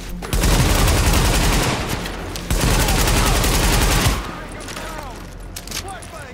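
Rapid bursts of automatic gunfire in Tom Clancy's The Division, loud and dense, with two sustained volleys before the shooting tapers off into quieter sounds.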